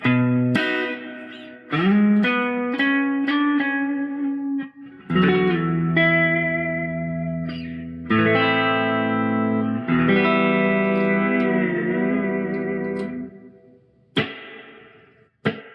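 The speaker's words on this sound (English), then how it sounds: "So it's more of kind of a small room effect there." Electric guitar played through an Oceans 11 reverb pedal set to a small-room effect: several picked notes and sustained chords ringing out with a short, tight reverb tail, separated by brief silences, played alone without talk.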